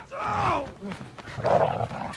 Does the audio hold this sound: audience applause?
no